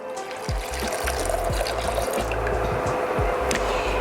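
Apple cider vinegar is poured into a pot, a continuous liquid gurgle and splash with a few low knocks, close and steady.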